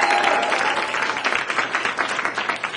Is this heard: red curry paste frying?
no